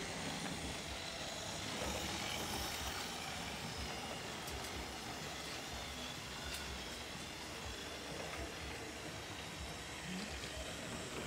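A Trix Express model train with a V100 locomotive runs on analog power, giving a faint, continuous rolling hum and rattle that stays even for over ten seconds, with no voices.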